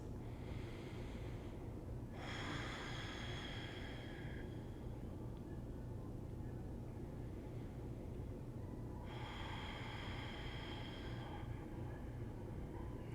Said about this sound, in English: And then constricting the throat on the exhale,